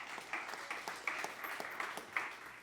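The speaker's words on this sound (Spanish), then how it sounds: "Denle un aplauso al que tiene 4 talentos." A church congregation gives a short, faint round of applause, a soft patter of many hands clapping with no other sound.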